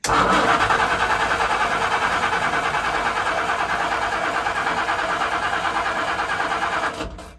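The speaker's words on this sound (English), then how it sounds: "let's crank this engine over, and we'll just suck in this antifreeze, and you'll see it go down as I'm cranking it over" A boat engine being winterized cranks over steadily on the starter for about seven seconds while drawing in antifreeze, a loud, close, even rhythmic whirring that stops abruptly at the end.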